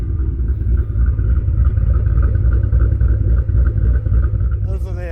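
A Ford Mustang V8 fitted with Ford Racing hot rod cams idles with a loud, steady, deep rumble close by, and someone talks over it.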